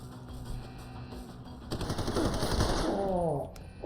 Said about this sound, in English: he was shooting me through a wall